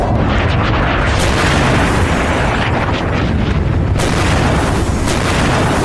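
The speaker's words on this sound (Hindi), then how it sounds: "एक तेज धमाका होता है और पूरे इलाके में आग लग जाती है।" A massive blast from an airstrike on an industrial town in Qazvin province, Iran, heard as a loud, sustained roaring rumble with heavy booming surges, dense and unbroken to the end.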